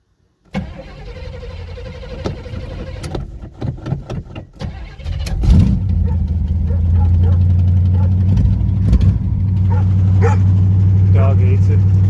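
A dog barks repeatedly in sharp bursts, then a loud 1979 Camaro Z28 cranks and fires up into a deep, rumbling idle that drowns out everything. Someone talks nearby.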